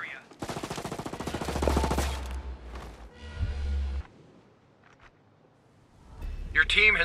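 Automatic gunfire in Ghost Recon Breakpoint PvP on PS5: a long rapid burst of loud, evenly spaced shots, a shorter burst after it, then a pause before more shooting near the end.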